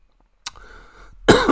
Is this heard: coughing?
yes